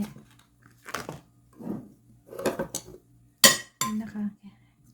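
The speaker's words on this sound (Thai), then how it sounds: "เทออกให้หมดเลยนะคะ แล้วก็มาใส่ภาชนะที่เราเตรียมไว้" Pieces of pickled mango tipped from one vessel into a prepared container, giving several short clinks and knocks of utensils and dishes in a quiet kitchen, with someone speaking between the sounds.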